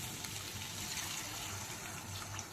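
Water poured into a pan of potato and ridge gourd curry during cooking, a steady close gushing splash throughout with no talk.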